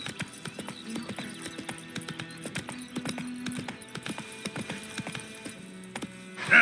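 Roach, the horse in The Witcher 3, moves along a road with a steady run of soft hoof clip-clops, fairly faint, over quiet game music.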